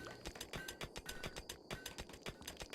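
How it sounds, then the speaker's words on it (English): Lighters flick over and over as RimWorld colonists take a smoke break, a faint, quick, uneven run of small mechanical clicks repeating throughout, with no voices. "I'm hearing all these lighters going off from everybody"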